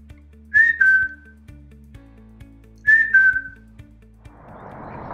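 A person whistles two rising-then-steady notes a couple of seconds apart to trigger a Guardians of the Galaxy whistle-activated model rocket launcher, clear and close, with faint clicks underneath and a soft rushing burst at the end.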